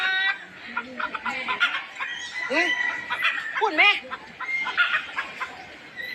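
Chickens at a zoo cluck and squawk in quick bursts close by, with a few rising calls, under a mix of people talking and children's voices.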